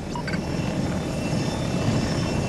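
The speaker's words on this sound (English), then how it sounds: "Extraction aircraft touching down." An extraction aircraft landing in Battlefield 2042 produces a steady, rumbling rotor-and-engine roar that holds close and loud for the whole stretch, with a few faint electronic blips at the start and no voices.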